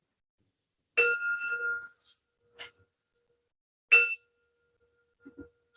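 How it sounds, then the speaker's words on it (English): A small bell rings clearly twice, each strike leaving a bright, shimmering tone that fades, with a few faint clicks between in a quiet room. "I don't know if you can hear that bell over all the trucks that are outside."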